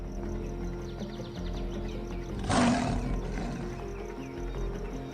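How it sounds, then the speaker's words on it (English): A male lion gives a single loud, close roar lasting about a second, set against a constant hum of wild ambience and background music. "One roar, and the prize changes hands."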